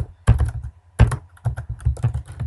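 Fast typing on a computer keyboard, heard up close as quick bursts of clattering keystrokes separated by short pauses, with no voices.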